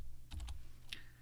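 A few quick, quiet keystrokes on a computer keyboard while entering a web address, close and faint over a low steady hum, with two short clusters of taps.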